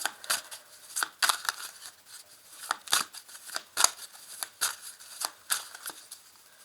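Oracle cards are shuffled and drawn, a close, soft, irregular run of quick papery riffles and flicks with no talk.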